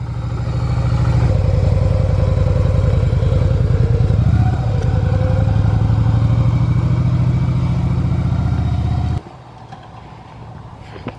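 A car engine drones loudly close by, its pitch rising and shifting at each gear change, then dropping off abruptly near the end, with no talking over it.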